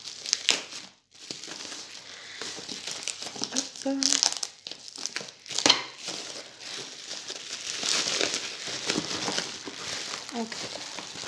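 A package protected with bubble wrap is unwrapped, with continuous crinkling and crumpling of plastic and some tearing, close and fairly loud, with a person speaking briefly.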